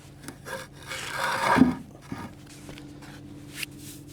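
A paintbrush drags across a surface during the first coat of paint, giving close, raspy scraping strokes that swell once and then trail into softer, intermittent brushing with no speech.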